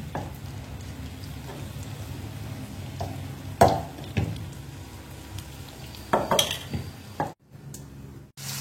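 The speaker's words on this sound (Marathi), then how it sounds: "तेल टाकलं, आता त्याच्यामध्ये लसूण टाकते मी, तो आपण चिरलेला लसूण।" Chopped garlic sizzles in oil in a pan for dry gobi manchurian, a low continuous frying hiss with scattered metal scrapes and clinks of a spoon stirring, ending in a brief pause.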